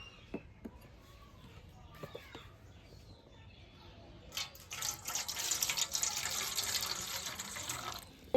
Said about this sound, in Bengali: আমি এটার মধ্যে অল্প একটু জল মিশাবো